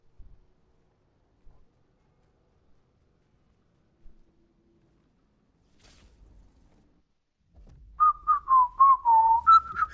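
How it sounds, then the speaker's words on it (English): A person whistles a short wavering tune of several quick notes near the end, close and clear, after mostly quiet moments during Fortnite play. "I'm just whistling."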